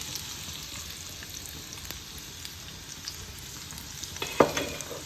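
Garlic sizzles in hot oil, a steady close frying hiss through the whole stretch, with a brief louder crackle near the end.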